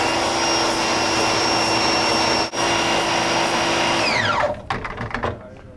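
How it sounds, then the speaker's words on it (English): A motorized spray gun washing a screen printing screen whines steadily and loudly, then the motor winds down with a falling pitch near the end, followed by a few drips and knocks. "Water through the gun, turn the motor on."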